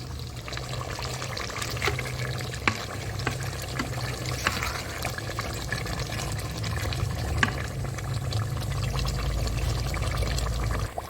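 Warm goat trotter broth (yakhni) is poured into a cooking pot in a steady, continuous stream of liquid that stays even throughout, with faint kitchen noise.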